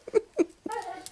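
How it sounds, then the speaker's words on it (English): A dog whimpers and whines in short high-pitched bursts, two quick yelps followed by a longer drawn-out whine, upset over guests arriving in a home during the Christmas season. "my dog is throwing a fit because we have guests"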